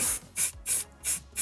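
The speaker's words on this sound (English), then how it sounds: "What you need to do is just spray it with a matte varnish." Matte varnish from a spray can hisses onto a miniature base in four short, even bursts, each about a fifth of a second, with brief pauses between them.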